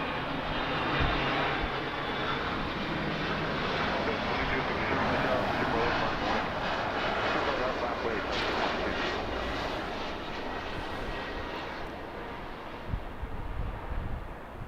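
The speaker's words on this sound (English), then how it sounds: "Let's take a look at this landing" A passenger plane landing at Los Angeles International Airport (LAX), its engine roar steady and loud throughout, with wind buffeting the microphone and faint voices underneath.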